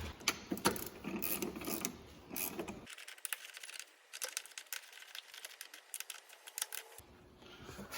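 Bolts on a strut bar in the engine bay of an E36 BMW 3 Series being tightened with a ratchet: a close, fast series of dry clicking ratchet strokes in short bursts, alone with no talking.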